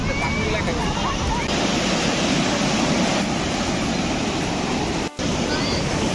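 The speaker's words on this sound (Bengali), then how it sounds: "কি ঢেউ আজকে সমুদ্রের" Sea waves roll onto Puri beach on a moonlit night, a loud, unbroken wash of surf close by, with faint voices mixed into the roar.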